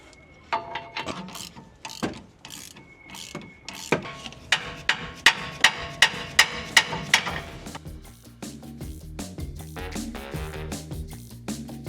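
A factory rear shock absorber is being removed from a 4th-gen Toyota Tacoma, giving a series of sharp metallic clicks, ratcheting and clanks, clustered and rhythmic at times, close by with no talk.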